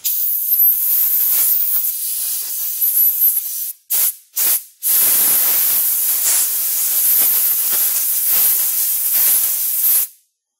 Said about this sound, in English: if you have an air compressor, it's very good to use this for stuff like this.